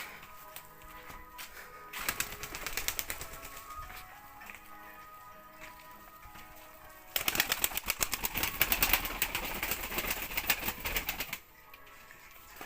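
Tumbler pigeons coo and flap their wings in two long bursts of busy fluttering and calls, separated by quieter stretches of soft cooing, moderately close.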